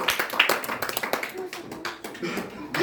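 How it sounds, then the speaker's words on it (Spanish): A church congregation claps along in steady, fairly quick rhythmic applause, heard under a preacher's voice that continues throughout. "Denle aplausos al Señor porque Dios es bueno."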